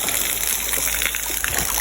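Natural spring water flowing from the ground in a remote spot, a steady close gushing and trickling that stays loud and even throughout, without talk.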